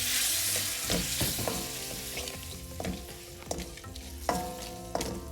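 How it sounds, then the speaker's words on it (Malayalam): Vinegar poured into hot oil with fried chili powder and salt for a Kerala-style red lemon pickle sizzles loudly and continuously, with repeated scraping clinks of stirring in the pan. "ഒരു 1/4 കപ്പ് വിനീഗറാണ് ഒഴിക്കുന്നത്."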